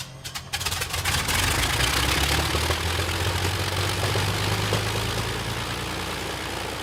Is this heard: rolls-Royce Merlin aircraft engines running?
yes